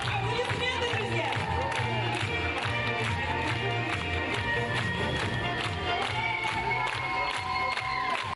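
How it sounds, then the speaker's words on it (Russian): Audience at a talent festival in a Pitsunda resort applauds and cheers a youth theatre's contemporary dance, steady clapping mixed with shouts over loud music, with an announcer's voice on top. "Аплодисменты, друзья!"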